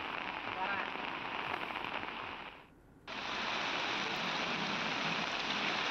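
Heavy monsoon rain pours down in Palghar, a loud, dense roar of water on surfaces that drops away for a moment near the middle before surging back just as strong.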